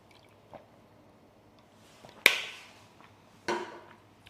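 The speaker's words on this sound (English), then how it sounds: "let me get a sip of water." A person sips water in a quiet room: two short, close wet slurping sounds a second apart, with no talking over them.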